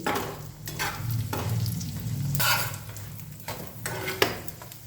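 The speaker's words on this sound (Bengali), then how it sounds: "এবার এটাকে আমি ঘি দিয়ে ভেজে নেব" Paratha flatbread sizzles in hot ghee in a pan, a steady frying hiss broken by scraping stirs and the occasional clink of a utensil.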